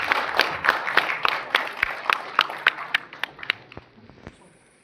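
An audience claps at the launch of the nationwide Digital Life Certificate campaign 3.0 by a central minister, producing a burst of sharp, scattered claps that thin out and fade away.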